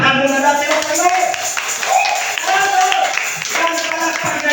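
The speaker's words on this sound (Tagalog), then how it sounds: "Palakpakan muna natin ang Panginoon!" A church congregation claps together at a Filipino worship service, a dense, steady patter of many hands close by, with a voice speaking over it at times.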